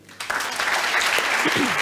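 Applause rises at a New Year's civic gathering in Port-Saint-Louis-du-Rhône as the mayor, Martial Alvarez, is welcomed: steady, fairly close clapping under a few faint voices, continuing to the end.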